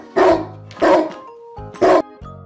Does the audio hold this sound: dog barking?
yes